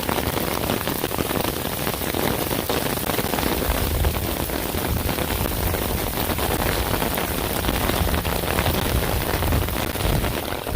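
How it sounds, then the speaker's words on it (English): Heavy rain pours down in torrents at Disney's Animal Kingdom, a dense, steady roar of drops hitting surfaces that stays loud and unbroken throughout. "The rain is coming down again in torrents,"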